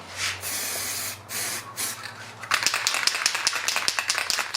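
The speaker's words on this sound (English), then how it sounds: "First coat's a bit of just a mist coat" A spray paint can hisses out a light mist coat over a board game parts tray in short bursts, then gives way to rapid rattling and clicking close by, with no talk.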